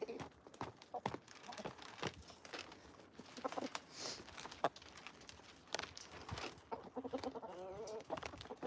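A hen clucks in a long, insistent run of sharp, rhythmic clucks, the egg song, with other chickens calling nearby in a busy backyard flock.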